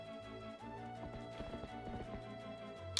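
Hooves clip-clop in a quick galloping rhythm as a horse runs in the video game Twilight Princess HD, fairly faint under a tonal music background.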